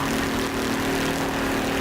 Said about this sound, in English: That engine is working, no joke.